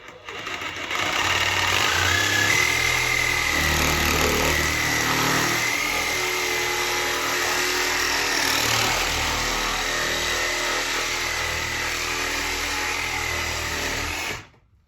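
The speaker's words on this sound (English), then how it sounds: "push the Sawzall all the way up on there to keep it tight so it doesn't shake too much" A Sawzall reciprocating saw cuts through a 3-inch toilet drain pipe, its motor starting up and then buzzing loudly and steadily for about thirteen seconds before stopping abruptly.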